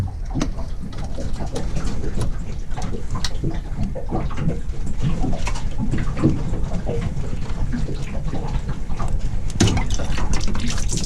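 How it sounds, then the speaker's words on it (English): Steady rush of water flowing through a generator intake hose on a Meridian 341 boat, constant and fairly loud with some gurgling and bubbling from trapped air throughout. "After it popped off, water started flowing, so that's good."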